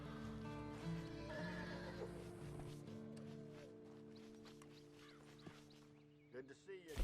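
Horse sounds in Red Dead Redemption 2 at a stable, with a soft neigh and snorts amid steady music and ambience, then louder hoof clops and movement near the end; someone talks briefly.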